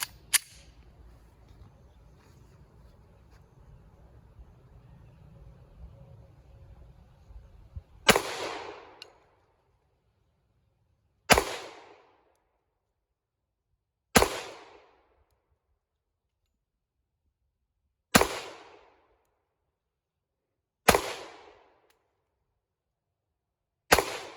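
A Glock 30 Gen 5 pistol fires six sharp, loud single shots spaced a few seconds apart, each with a short ringing decay, after a quiet stretch of faint background noise.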